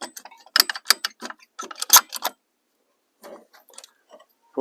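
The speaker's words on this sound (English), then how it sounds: "Brake pad spreader, maybe, I don't know." A brake pad spreader ratchets against a caliper piston as it compresses it: bursts of rapid, uneven mechanical clicks, a pause, then a few fainter clicks, all close up.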